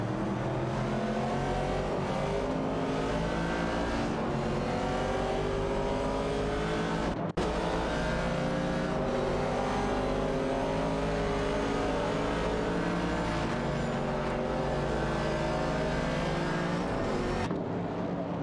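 Race cars in a simulated AI race, continuous loud engine drone with shifting revs and several cars overlapping, broken by a brief cut partway through.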